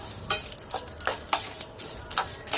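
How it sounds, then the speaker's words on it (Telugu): Green chilies frying in oil for an ivy gourd masala curry, stirred with a ladle: quick, irregular scraping and clinking strokes against the pan over a soft sizzle, close by, with no voices. "మిర్చి కూడా అంతా ఆయిల్లో ఫ్రై అయ్యేటట్టు మొత్తం అంతా కలుపుకుంటా ఉన్నాను"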